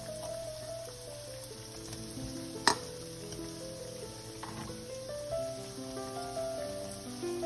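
Coated idli pieces frying in a pan for an Indo-Chinese idli manchurian give off a steady, moderate sizzle with a sharp clink near the start, with no one talking.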